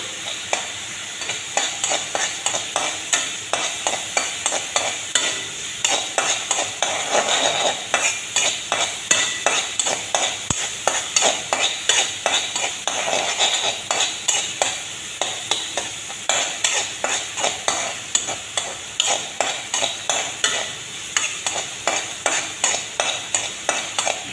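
Onions frying in a pan while being stirred, a steady sizzle under rapid, rhythmic spatula scrapes repeating close by for a long stretch, no voices.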